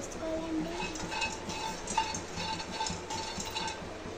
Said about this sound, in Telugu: ఇలా కలుపుకుంటూ రోస్ట్ చేసుకోవాలండి బాదంని.